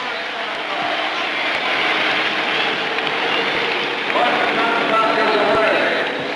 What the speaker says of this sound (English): As the last cars pass John Cock, his engine fires and he is moving.